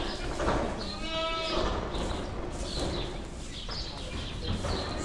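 Goats bleat in a barn, one clear wavering cry followed by more calls against a constant rumbling background.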